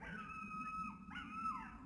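A dog howls faintly in the distance, two drawn-out wavering cries, the second rising and then falling, over steady background hum.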